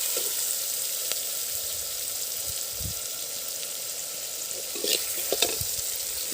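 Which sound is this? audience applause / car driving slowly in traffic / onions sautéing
onions sautéing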